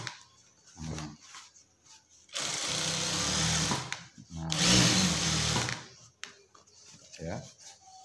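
Sewing machine stitching jeans-style trousers, each seam sewn twice: two long, loud whirring bursts of rapid stitching, separated by short pauses, with brief quiet talk before and after.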